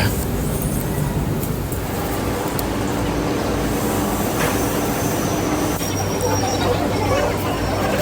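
Steady rumble and rushing noise of an elevated electric train on Bangkok's Pink Line running along, with faint squeals and clicks, continuous throughout.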